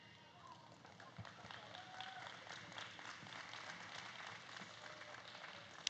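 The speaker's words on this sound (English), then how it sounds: "We have a round of applause for our FFA showman out here." A crowd at a youth dairy goat showmanship event at the Laramie County Fair gives a round of applause for an FFA showman, producing faint, distant, sustained clapping under a speaking voice.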